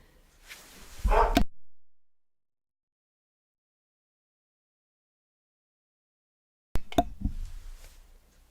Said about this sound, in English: I'm really sorry about my dog. He's really going at it.